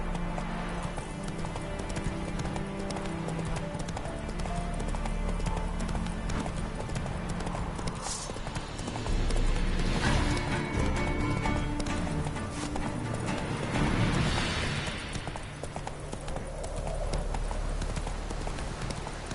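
The horse Roach gallops in the video game The Witcher 3, a rapid, continuous clip-clop of hooves with a brief whinny, heard under game effects and background score.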